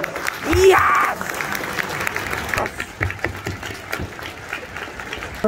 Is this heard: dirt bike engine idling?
no